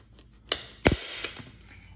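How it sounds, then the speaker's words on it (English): A knife cuts the top off a butternut squash on a board: a couple of soft taps, then one sharp, close chop with a brief crunch, followed by faint clicks, no talking. "The first thing you do is cut off the very top"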